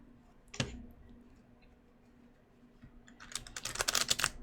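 A deck of playing cards being shuffled at close range: a single sharp snap early, a quiet pause, then a rapid flurry of riffling clicks building near the end.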